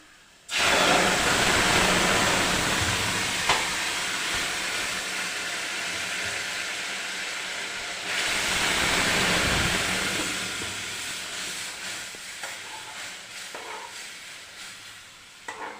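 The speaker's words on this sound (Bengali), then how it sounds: "এবারে আমি শাকটাকে ঢেলে দেব" Jute leaves hit a hot pan of garlic and chopped chilli fried until red, setting off a loud, steady sizzle that surges again midway through and then slowly fades, with no talking over it.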